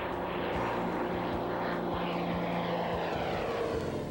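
A propeller airplane arrives at EAA Oshkosh in 1995 during a cross-country air race, its engine making a continuous, moderately distant droning hum with no voices.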